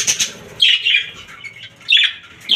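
Pet parrots in cages kept with clay nesting pots give loud, harsh squawks in bursts, with brief quieter gaps between calls.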